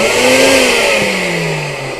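The vacuum motor of a Mytee Lite 8070 carpet extractor runs with a loud, close, continuous whine and roar, its pitch sliding slowly downward as it winds down slightly.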